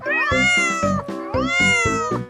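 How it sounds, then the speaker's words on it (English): A domestic cat gives two loud, close, drawn-out meows, one right after the other. "This is a cat."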